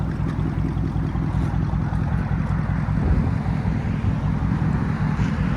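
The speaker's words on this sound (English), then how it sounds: "Listen to that idle." A straight-piped Chrysler 300C with a 5.7L HEMI V8 and true dual exhaust idles, giving a loud, steady, deep rumble that stays even and unbroken throughout with no voices.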